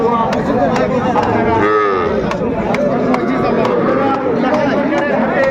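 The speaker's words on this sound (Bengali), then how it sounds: "ষাঁড় বাচ্চা" A young bull calf moos loudly and close at a busy cattle market in Ambari, Dinajpur, with repeated drawn-out calls over constant crowd chatter and people talking nearby.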